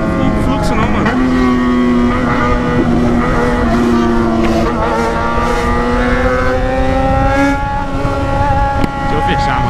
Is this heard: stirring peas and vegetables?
no